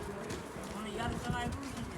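Pigeons coo at a pigeon keeper's loft, soft throaty calls rising briefly beneath a voice talking over them nearby.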